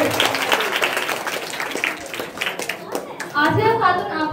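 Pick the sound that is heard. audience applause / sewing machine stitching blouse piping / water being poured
audience applause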